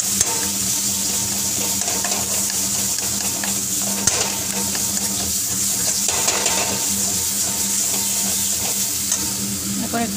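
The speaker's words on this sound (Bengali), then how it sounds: "এখন আমি একটু আঁচটা বাড়িয়ে দিয়ে এটাকে তাড়াতাড়ি নাড়াবো" Spiced eggplant kofta curry is stirred briskly in a hot pan over raised heat, a loud, continuous sizzle with scraping strokes of the spoon close up.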